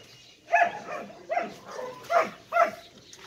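A dog barks four times in a steady, evenly spaced series, each bark fairly close and clear, with no talking over it.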